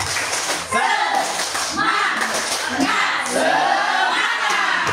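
A primary school class claps in rhythm on the teacher's command, bursts of several claps in counted groups mixed with children's voices and the teacher speaking over them.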